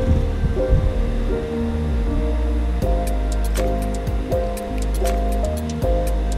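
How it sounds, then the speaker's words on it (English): A kitchen blender whirring as it purées hibiscus for a zobo drink: a loud, close motor hum with a churning wash that shifts pitch several times as the blades work through the mixture. "I'm just going to put them in a blender."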